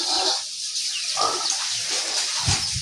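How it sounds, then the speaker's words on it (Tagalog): Pigs grunting and squealing loudly together in a pen, a noisy, continuous chorus with bursts of higher squeals. "ang ingay ng mga baboy"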